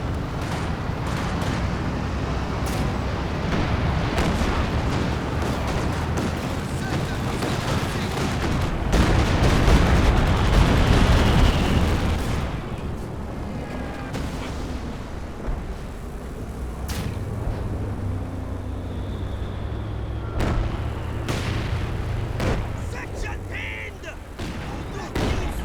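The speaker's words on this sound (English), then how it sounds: "So many rockets." Rockets and artillery pound a Company of Heroes 2 battle on the Port of Hamburg map in a crowded 3v3 match, a dense roar of blasts and gunfire that stays loud throughout, with speech mixed in.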